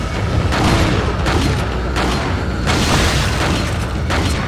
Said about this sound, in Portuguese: Dá uma granadinha aí só pra... pra dar aquele gosto